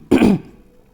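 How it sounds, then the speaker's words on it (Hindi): One short, rough throat-clearing cough, close and loud, lasting under half a second before fading into quiet. "थोड़ा सा खांसी आ रही थी"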